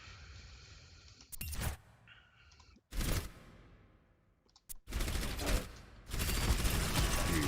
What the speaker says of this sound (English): so you can afford to shoot at Miss McCree